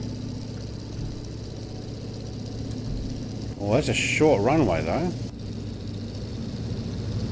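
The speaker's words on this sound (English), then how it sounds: "listen to those engines backing off" Engines of a Junkers Ju-52 in Microsoft Flight Simulator drone steadily at a mid-pitched idle-like hum throughout, with someone briefly talking over the engine noise.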